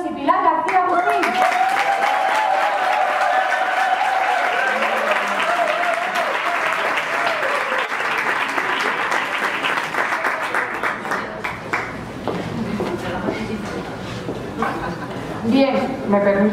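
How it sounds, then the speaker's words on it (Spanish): Warm applause from an audience welcoming two speakers at a university morning event, a loud continuous round of clapping that thins toward the end as a voice begins talking over the last scattered claps. "Damos un fuerte aplauso ya a Ángela Barrios y Pilar García Agustín."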